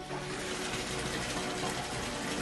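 A pump filling a cold plunge tub with water gives a steady, dense rushing and gushing sound, continuous and fairly close, with no talk.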